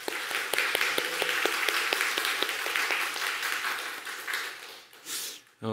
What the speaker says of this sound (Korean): 필리핀 선교 중에 함께하신 하나님께 감사의 박수를 한번 같이 올립시다.